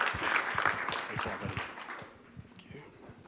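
An audience claps for a startup pitch presenter at a tech summit, moderately loud clapping that thins and fades away over a few seconds.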